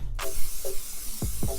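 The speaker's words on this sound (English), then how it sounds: "Spray them down, nice." Cooking spray is sprayed onto baking sheets, a few quick close hissing bursts from the can, with no voices.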